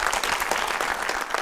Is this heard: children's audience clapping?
yes